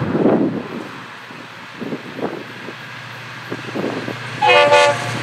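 An FEC freight train led by locomotive 441 passes with tankers and hoppers, a low rumbling roll of cars with a brief loud horn blast near the end, no talk.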